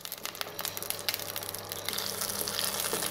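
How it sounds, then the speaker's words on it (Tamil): Green chillies sautéing in hot oil for a fenugreek-leaf kadaisal, giving a close, continuous crackling sizzle with dense spattering throughout. "அதனால் வந்து கொஞ்சம் வந்து வதக்கிக்கணும் பச்சை மிளகாய் எண்ணெயில்"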